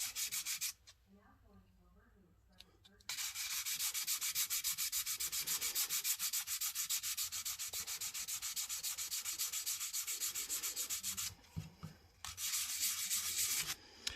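Hand sanding with 320 to 400 grit sandpaper, a loud rapid back-and-forth rasping that runs in long continuous stretches, broken by brief pauses near the start and again near the end.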